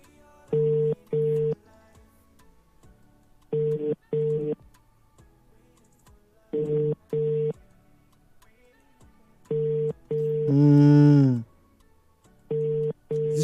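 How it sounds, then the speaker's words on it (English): Ringback tone of an outgoing phone call, paired double rings repeating at steady intervals, with a louder sweeping electronic tone between rings near the end. "It's ringing now."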